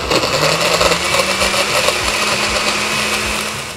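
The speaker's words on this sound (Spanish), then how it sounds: "Y vamos a comenzar a batir." A blender whirs steadily at high speed, churning a chocolate banana smoothie in a loud, continuous grinding drone with a faint rhythmic thumping underneath.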